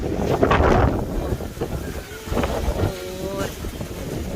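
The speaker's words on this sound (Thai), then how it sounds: "นี่คือลมอีสาน" Strong northeast monsoon wind blowing through a lily garden in Thailand, a steady loud roar buffeting the microphone, with faint whistling tones and someone talking over it.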